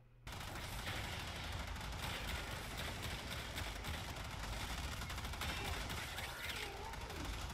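Rapid bursts of gunfire from the Pandero Prime pistol's alternate fire in the game Warframe, a dense, continuous clatter of shots with other game noise running steadily throughout.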